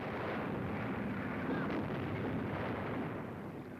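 Bombs exploding during an air raid on a wartime convoy at sea, a continuous heavy rumble of blasts and gunfire merging into one roaring, distant-sounding barrage with no separate clear bangs.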